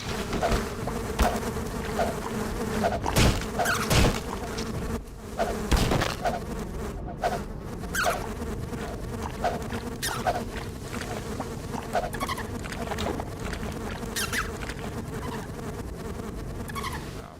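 Insects buzzing like bees in the video game Dark Interval, in a wasteland area, a dense continuous droning hum with scattered sharper clicks and game effects over it and no talk.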